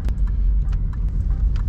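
A Triumph Stag V8 driving along a country lane, a steady, fairly close road and engine rumble with a few faint clicks on top, no voices.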